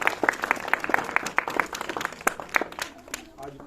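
Audience at a school Republic Day event clapping in a brisk, fairly even rhythm, with crisp distinct claps from a smaller group rather than a roaring crowd, thinning out toward the end.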